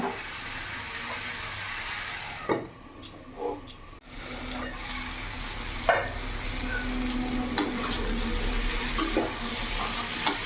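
Pumpkin with green chillies sautéed in a pan gives a low, continuous sizzle with scattered scraping stirs and a couple of louder clatters near the start.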